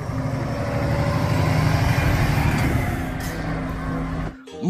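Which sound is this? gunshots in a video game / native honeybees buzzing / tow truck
tow truck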